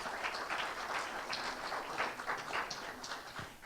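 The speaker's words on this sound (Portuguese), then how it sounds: "Dá uma salva de palmas ao Senhor aí" Soft, steady applause from a church congregation, the clapping somewhat distant and muffled, continuing evenly throughout.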